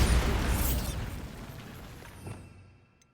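The Bombarda blasting spell goes off in a Hogwarts video game: one loud, close boom that rolls into a fading rumble and debris wash over about three seconds.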